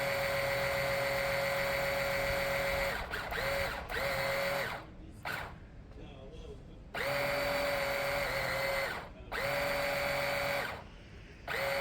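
A Peugeot Satelis 125cc scooter's starter cranks on a dying battery after fresh fuel: a close, loud whirring drone runs in several long bursts broken by short pauses, and the engine never catches.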